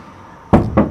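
Two sharp knocks on a door, close and loud, the second following about a quarter second after the first, against a quiet room.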